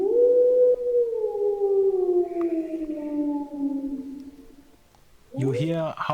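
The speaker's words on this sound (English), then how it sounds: "you hear howling in the distance" A single long howl sounds in the distance on a stormy night, sliding slowly downward for several seconds before fading, followed by a brief burst of wavering, yelping cries.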